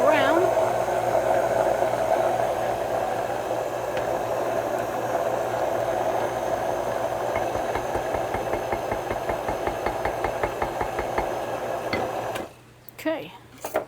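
A blender purees a green spaghetti sauce with garlic salt, running as a steady close whirring drone with a faint rhythmic chop before cutting off near the end, followed by brief clatter.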